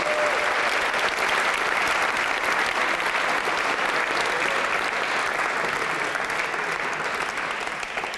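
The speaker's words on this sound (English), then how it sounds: "a big round of applause for our new amazing piano player." An audience applauds a new piano player at a jazz and improvisation event, steady dense clapping sustained loudly for several seconds with no voices on top.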